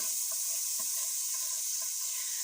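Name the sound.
green chilies frying in pan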